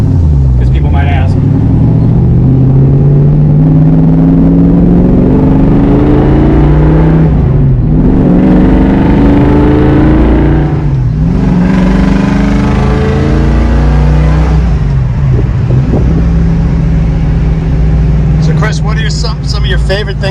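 A classic Ford Mustang with a 289 V8 and a 4-speed manual in Bullitt tribute trim growls loudly while driving, rising through the gears with brief dips at the shifts, with voices talking over the steady rumble.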